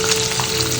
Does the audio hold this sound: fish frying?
yes